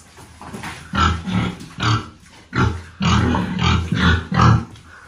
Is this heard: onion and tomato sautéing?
no